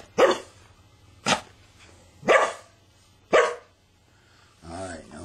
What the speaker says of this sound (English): We have to bark a little bit.